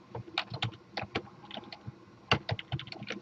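Fingers typing on a computer keyboard, quick irregular bursts of close, crisp key clicks with short pauses between runs, no talking.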